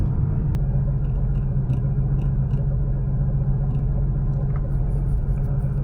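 A classic Porsche cruising along a road, its engine giving a steady, loud low rumble with constant road noise and no change in pace throughout.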